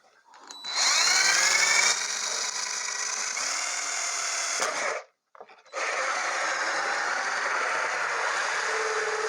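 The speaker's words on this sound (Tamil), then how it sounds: "ட்ரில்லு போட்டுடலாம்." A power drill bores a hole in wood for a sparrow nest box, its whine running steadily for about five seconds, cutting out briefly, then starting again and holding close and loud.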